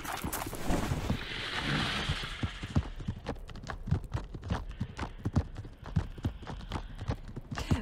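Horse hooves clip-clop in an irregular trotting rhythm in the video game AD INFINITUM, moderately close, after a brief burst of hissing noise at the start.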